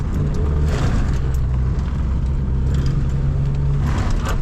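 A Toyota AE86 set up for autocross drives along with a steady low engine drone and road rumble inside the cabin, continuous and fairly loud throughout.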